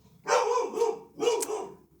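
A dog barks twice nearby, loud and gruff, the two barks about a second apart with a quiet room behind them.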